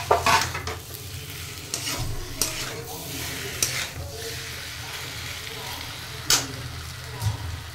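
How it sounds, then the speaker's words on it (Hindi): Potatoes and tomato sizzle and fry in a pan while a utensil repeatedly stirs and scrapes, with sharp clinks against the pan over a steady crackle. "मैंने टमाटर काट ली हूँ और इसको अब डाल दूंगी आलू में और इसको अच्छे से मिक्स कर दूंगी।"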